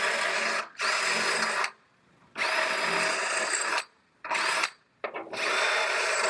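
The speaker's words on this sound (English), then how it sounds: "So as I'm drilling these out," A power drill bores out spot welds on a rear-damaged Honda CR-V body panel, running in loud, high-pitched bursts of about a second each, separated by short pauses.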